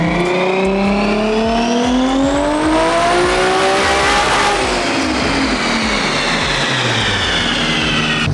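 A 550 hp RB25-powered Nissan 240SX roars on a dyno, its engine note climbing steadily through a long wide-open pull and then falling away, loud and continuous with no talking.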